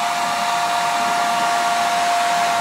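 A heat gun blows loud and steady at close range, a constant airy roar with a high whine, warming the adhesive of a Martin D28 guitar pickguard; no voices.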